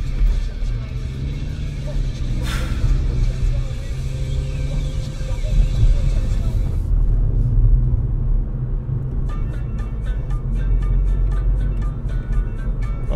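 A Renault 4L's engine drones low and steady from inside the car as it drives, a constant rumble running under someone talking throughout.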